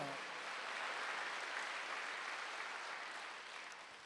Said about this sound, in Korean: 빨리 박수. 왕 앞에 세워준다는 거야.